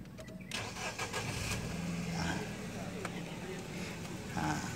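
A used Nissan X-Trail T31 engine cranks and catches close by, then settles into a smooth, steady idle that hums on without sputtering.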